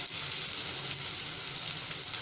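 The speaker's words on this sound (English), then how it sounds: "3 to 4 tablespoons of oil. Then add onions. Fry it until it gets translucent." Onions fry in a few tablespoons of oil in a pan, giving off a steady, dense sizzle that holds at an even level with no voices.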